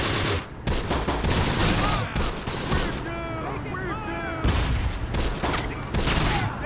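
In the Close Combat: The Bloody First video game, bursts of rifle and machine-gun fire crack repeatedly with heavy booms from a grenade blast, loud and dense, while voices call out amid the fighting.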